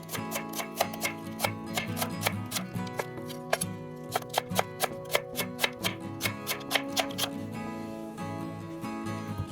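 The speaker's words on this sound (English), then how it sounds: "Slice the shallots into thin strips." A knife slicing shallots into thin strips on a board, a run of crisp, evenly spaced cuts with a short pause midway, close and clear with no voices.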